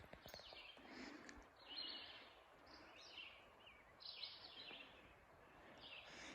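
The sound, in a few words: birds singing in green forest on the Appalachian Trail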